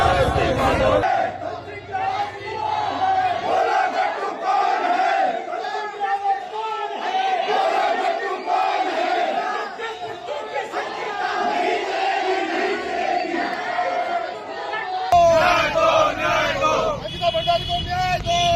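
A large crowd of protesters fills a street in Uttarakhand on a bitterly cold day, a dense continuous roar of shouting and chanting voices with a sharper surge near the end.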